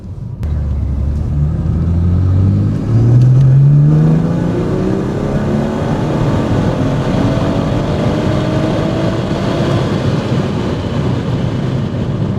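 BMW with a B58TU engine accelerating slowly up to 40 mph on a narrow lane, a steady loud engine drone with rising harmonics as it pulls through the gears, continuous and close, with no talking.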